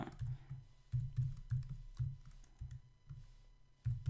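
Soft, close clicking of keys on a computer keyboard as a date is entered, a steady run of quick taps with short pauses, quiet and without speech.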